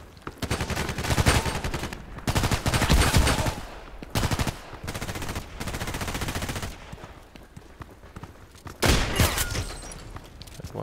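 Rapid automatic gunfire in the online shooter game Contract Wars, loud repeated bursts with short pauses between volleys, no talking.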